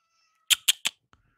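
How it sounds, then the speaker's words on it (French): A cat meows in The Sims 2 game: three short, close meows in quick succession, then a faint soft blip, with no talk. "Miaou. Miaou. Miaou."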